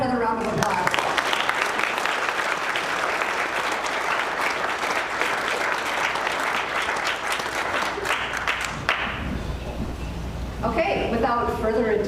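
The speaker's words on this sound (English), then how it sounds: "How about another round of applause?" Long, full round of crowd applause at a Rotary Club Veterans Day program for the Eagan Men's Chorus, thick and steady, thinning near the end as a voice briefly begins over it.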